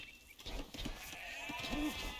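Sheep in the Age of Empires strategy game let out short, faint bleats over a low game soundscape, with commentators talking throughout.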